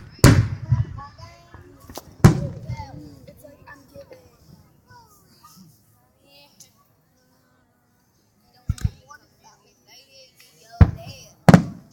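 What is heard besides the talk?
fireworks show over water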